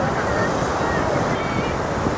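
Surf washes continuously onto Kothapatnam beach where fishing boats head out, a dense, even roar mixed with wind buffeting the microphone.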